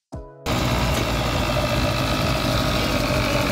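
A car engine at a Cars + Coffee car show idles loudly and steadily up close, a dense continuous throbbing roar that starts abruptly after a brief lower mechanical sound.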